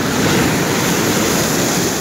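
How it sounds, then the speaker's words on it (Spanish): Ocean surf rolls and breaks on the shore at Mar del Plata during sea fishing, a steady loud wash of churning water with wind noise across the microphone throughout. "Ahora viene la ola"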